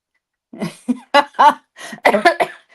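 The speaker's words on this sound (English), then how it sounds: "once I start coughing, I'm a goner" A short fit of several harsh coughs in quick succession, close to the microphone, with brief gaps between them.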